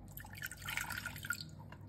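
Water poured from a vessel in a kitchen, measured out for a sugar syrup for multicolored Italian meringue, running as a steady close, fairly quiet liquid stream for about two seconds with no voices.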